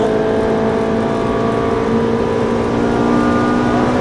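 A Ferrari 458 Italia engine drones loud and close on a race circuit at Fontange, a steady sustained tone under light throttle with no sharp revving peaks.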